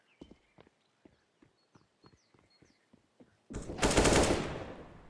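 Video game shooter match gunfire in a tri-service esports scrim: a run of sharp, evenly spaced shots, then a loud, sustained broadband burst like an explosion or heavy barrage, with no talk over it.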